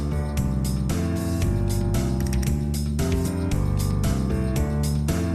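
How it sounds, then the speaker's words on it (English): Onion processing machine cutting the tops and tails off bulbs, a loud continuous mechanical clatter of gears and ratcheting parts with a repeating rhythmic pattern. "A cutter chops off each bulb's top and tail simultaneously."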